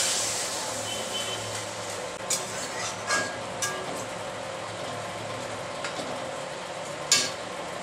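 Papaya curry sautéing in a pan hisses and sizzles steadily at close range once water goes in, with a few faint clicks and taps scattered through the noise.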